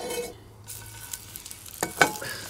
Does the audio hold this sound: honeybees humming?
no